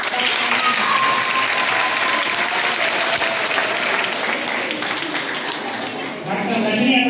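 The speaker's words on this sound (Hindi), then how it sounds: "हम सबके मध्य एक बार जोरदार तालियां" Sustained applause from a school audience fills the space, a dense, steady wash of many hands clapping at close range, with faint voices mixed in.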